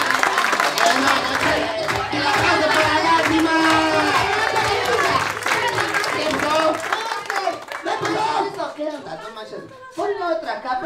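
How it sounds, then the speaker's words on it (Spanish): A crowd at a clown performance event claps and cheers for a woman named Fátima over music and loud talking, the noise thinning out near the end. "Fuerte el aplauso para ella"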